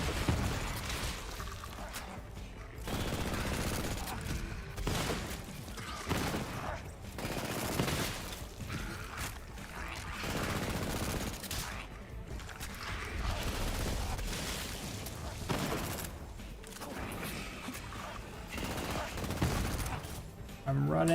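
Rapid gunfire from the video game Borderlands 3 played with level 1 gear, dense bursts and volleys running nearly continuously at loud level, with a voice talking intermittently over the shooting.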